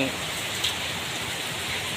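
Heavy rain pouring down on a road at night, a dense steady hiss of falling water filling the whole moment at close range.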